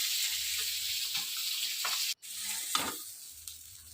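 Rohu fish sizzles steadily in hot oil as the pieces are lifted out, a soft continuous frying hiss broken by a brief clatter and a gap, with no voices.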